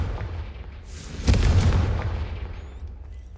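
A Confringo explosive spell blast in Hogwarts Legacy lands as a single loud, close boom with a rushing burst of debris noise that slowly fades over a couple of seconds.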